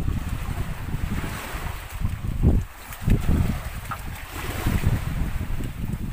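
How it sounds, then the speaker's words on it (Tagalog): Strong gusty northeast monsoon wind buffets the microphone by the sea, with low rumbling surges and a steady wash of surf underneath. "Pasensya na kayo kung medyo mahangin dahil amihan na po ngayon."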